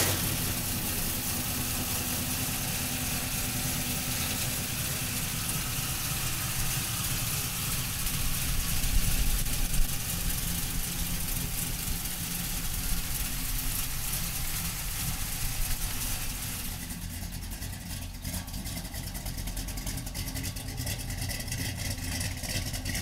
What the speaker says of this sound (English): So come on up and let's fire this Z06 up.